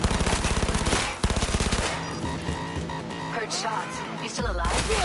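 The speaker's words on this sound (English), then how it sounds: "Heard shots." Rapid automatic gunfire in the video game Cyberpunk on PS5 rattles in a fast rhythmic burst, followed by a sharp shot and lighter shots under a tense music score and voices.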